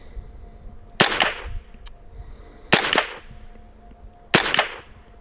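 Three sharp rifle cracks from a Smith & Wesson 15/22 fired at big targets, spaced about a second and a half apart, each a crisp close report with a short ringing tail.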